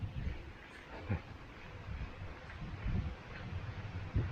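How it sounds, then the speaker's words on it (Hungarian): Wind buffets a microphone during a bicycle tour from Riga to Korgene in Latvia, a steady low rumble with irregular gusty thumps throughout, fairly quiet and with no talking. "Persze fúj hozzá a szél."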